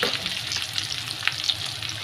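Curry leaves fry in hot oil with a dense, close hiss and crackle, brief pops and light stirring running steadily throughout.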